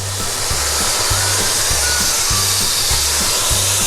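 Marinated pork steaks sizzle on hot cast iron grill grates, a loud steady hiss that runs continuously with a low rhythmic hum underneath.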